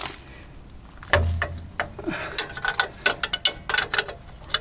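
Line wrench working a spinning brake line fitting on a Chevrolet Avalanche, a series of close metallic clicks, taps and scrapes, sparse at first and then quicker and irregular.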